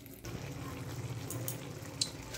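Small fish cooking in a covered pan on the stove, with a steady low sizzle and bubbling after a little water goes in, plus a faint clink near the end.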